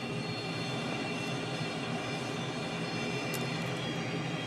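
Tutor CT 114 jet engine spooling up on the ground in a VR flight game, a steady loud whine and roar holding at a constant pitch throughout.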